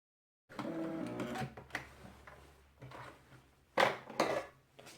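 A sewing machine stitches down the middle of fabric in short runs of rapid mechanical clatter, close and fairly quiet, with brief pauses between bursts.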